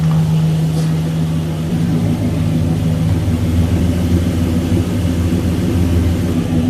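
A 1966 Ford Galaxie engine with an upgraded exhaust idles in a deep, continuous low rumble, loud and close, steady throughout with no talking.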